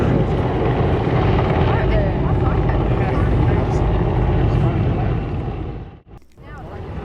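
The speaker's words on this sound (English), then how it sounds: "A helicopter with something hanging from the back flew in." A loud, steady roar of a Royal Australian Navy helicopter passing nearby over Sydney Harbour, dense and continuous before briefly dropping away near the end.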